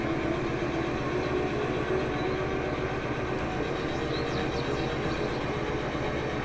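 A steady, droning diesel locomotive engine in the video game Derail Valley (DE2 locomotive) rumbles continuously at an even level, with a low throbbing pulse and no voices.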